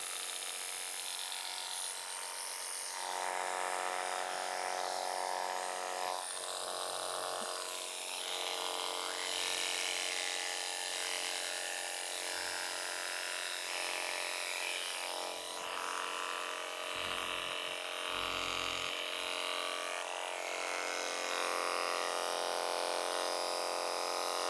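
Electric clippers trim the wool of a Dorper sheep, a steady close buzzing hum that continues without a break, shifting slightly in tone as the blades move through the fleece.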